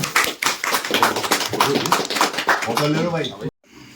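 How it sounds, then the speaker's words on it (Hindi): At a literary gathering in Gwalior, an audience claps to welcome guests. The claps are close and fairly rhythmic, with voices talking over them, then stop abruptly. "तालियां बजा दो, तालियां क्लैपिंग।"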